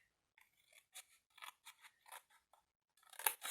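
Scissors snip through paper in a straight line toward the fold while making a drawer for a perpetual calendar. About seven quiet, close, evenly spaced crisp cuts are followed by a louder, rapid burst of snipping at the end, with no talking.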